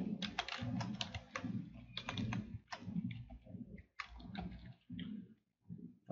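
Fingers type in quick bursts on a computer keyboard, close and clear, with short pauses between runs of clicking keys and no talking.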